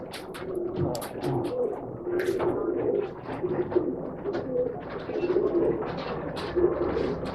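Pigeons offered for sale at a pet and aquarium shop in Bangalore coo steadily in soft, low murmurs, with occasional higher chirps overlapping in the background throughout.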